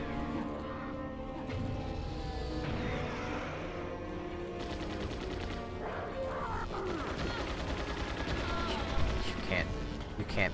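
Mortar fire during a mortar section of Resident Evil 4 (2005), Separate Ways, with repeated heavy booms and crashing blasts in a dense, continuous game soundscape.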